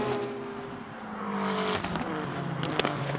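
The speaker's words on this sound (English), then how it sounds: "Alvaro Parent, this McLaren has just come to life early in this run once again." McLaren GT race car at Barber, a fairly faint engine note rising under acceleration with a passing sweep and a sharp transient near the end, heard over track ambience.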